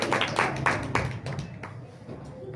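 A church congregation at a Hindi-language sermon claps, with a flurry of quick hand claps at moderate distance that thins into scattered claps and fades.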